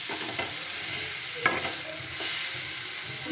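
Khesari greens, grass pea leaves, frying in a pan with a steady soft sizzle while a spatula stirs and scrapes through them, close and moderately quiet.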